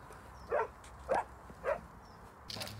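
A dog gives three sharp, evenly spaced barks at a cat, fairly close and loud against a quiet outdoor background, followed by a brief burst of higher-pitched noise.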